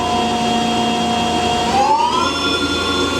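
A TRAX 1840SX CNC toolroom lathe with an 18-inch swing, its spindle in high gear spinning at 1500 RPM, gives a steady close whine with strong tonal hums that bend upward partway through as the speed settles.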